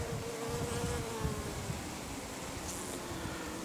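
Honey bees swarm around a hive with a second hive body on top, their buzzing a dense, steady drone that stays close and even throughout with no pauses.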